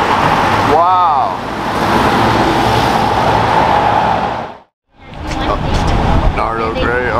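A Nardo Gray Audi RS6 drives past on a street, a loud rushing swell of engine and tire noise that fades and then returns, with people talking over it.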